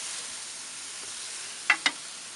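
Pork steaks hissing on a grill after a flip, a steady close sizzle with two quick light clicks from the tongs near the end, no talk.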